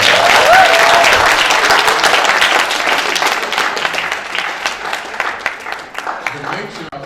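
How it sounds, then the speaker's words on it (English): Crowd at the Garrison family reunion on a Friday night applauds loudly and steadily, clapping gradually thinning toward the end, with voices and a brief cheer mixed in. "Y'all give her a round of applause."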